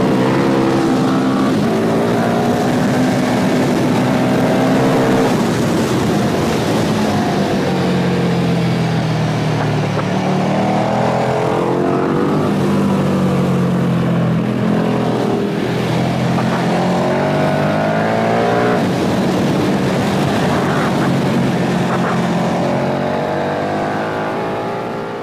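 A 2017 KTM 1290 Super Duke R motorcycle ridden hard on track, its loud, close engine rising and falling through repeated accelerations and gear changes for a long continuous stretch, with no voices.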